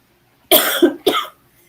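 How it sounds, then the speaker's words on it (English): Two sharp, loud coughs close by from a person with a sore throat, the first longer and raspier, the second following a moment later, then quiet. "I apologize for coughing"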